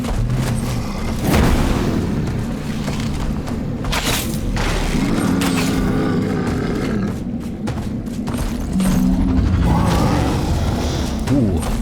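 A launcher mechanism in the video game Enshrouded fires with heavy booms and creaking, ratcheting clanks, repeated at irregular intervals over a rumbling, roaring game backdrop.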